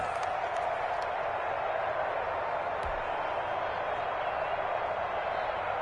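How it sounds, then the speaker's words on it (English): Crowd noise at a video game American football match, a steady wash of cheering and applause from a stadium audience, sustained and even throughout without a distinct peak. "The crowd getting into it as we come up on a big 3rd down."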